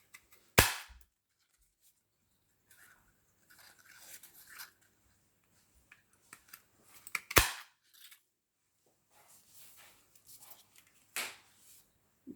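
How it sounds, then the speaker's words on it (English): A paper punch cuts out card shapes, giving three sharp, close snaps spread apart, with quieter rustling and handling of card between them. "we are going to use the punch to do that"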